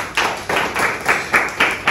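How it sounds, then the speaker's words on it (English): Several people clap together at the end of an IELTS speaking test, a short burst of brisk, uneven claps with no talk. "please clap for him, of course."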